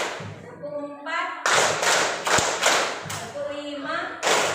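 Hands clap in a counted rhythm exercise, sharp bursts in uneven groups at close range, with an adult voice counting aloud between the claps.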